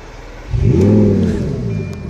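A 2006 Lamborghini Gallardo Spyder with sport exhaust, driving through a tunnel in Germany. Its engine swells in a loud, rising rev after a quieter start, then holds a strong, sustained roar.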